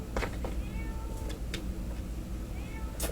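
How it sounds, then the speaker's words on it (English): A cat outdoors meows several times in short, plaintive calls over a steady background hiss, moderately close and without any talk. "My cat is outside."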